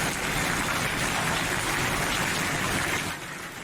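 Heavy cold rain pours steadily during a hail storm in Chandigarh, a dense continuous hiss that stays loud throughout and eases slightly near the end.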